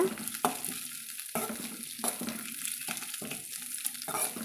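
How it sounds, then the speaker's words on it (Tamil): Shredded cabbage sautéing in hot oil in a pan for a South Indian thuvaiyal, a steady close sizzle broken by repeated stirring scrapes at irregular intervals, with no talking. "இந்த எண்ணெயிலே வந்து ஒரு ரெண்டு மூணு நிமிஷத்துக்கு நல்லா நம்ம வதக்கி விடணுங்குது"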